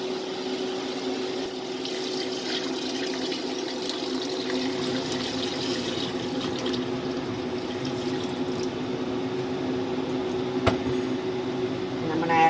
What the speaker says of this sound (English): So now I'm going to add my water.